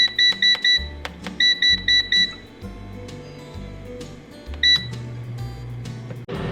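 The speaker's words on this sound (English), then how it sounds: "turn on your air fryer, and we're going to set the temperature to" An air fryer's control panel beeps in quick bursts of short, high two-tone beeps as the temperature is set, loud and close, followed by a steady low fan hum.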